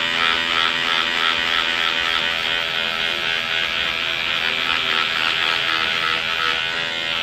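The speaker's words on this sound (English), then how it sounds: "Electric razor here from Target," An inexpensive electric razor trims facial hair, giving a steady, close buzz that holds at an even level for several seconds without pause.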